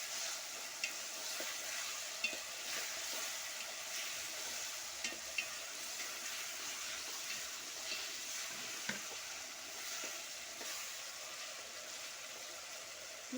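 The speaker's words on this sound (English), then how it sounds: "I continue stirring." A mutton and rice mixture stirred and frying in a pot: a steady faint sizzle throughout, with soft scrapes and clicks of the spoon at irregular intervals.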